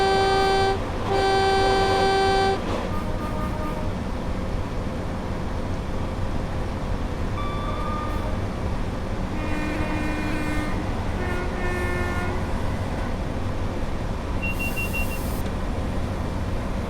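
A train horn from the Train Sim World video game, on the West Coast Main Line between Preston and Carlisle, sounds in two steady tonal blasts over a constant loud rumble of the running locomotive, with fainter cab tones later.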